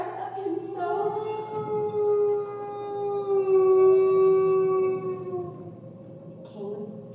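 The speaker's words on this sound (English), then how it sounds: "a long, deep mutter, and a rising howl like a wounded beast" A rising, drawn-out howl like a wounded beast, played as a theatre sound effect in a stage production of The Hound of the Baskervilles, sustained and wavering for several seconds over a low rumble, loud and close.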